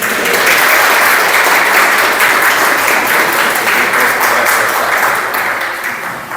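Loud, continuous applause from an audience after a Christian talk, many hands clapping in a full, even roar that softens slightly near the end.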